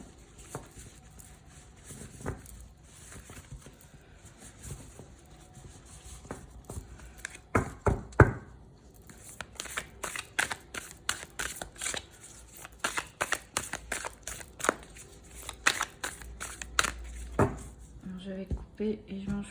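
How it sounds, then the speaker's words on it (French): Tarot cards being shuffled by hand, a faint, quiet run of crisp, irregular flicks and soft slaps that grows busier and denser partway through. "on va faire un bon brassage"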